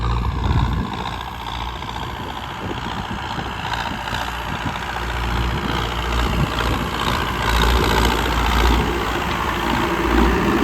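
A JCB engine fitted in a John Deere tractor running with a steady, continuous low diesel rumble. It is close and moderately loud, with a slight rise in intensity partway through and no voices.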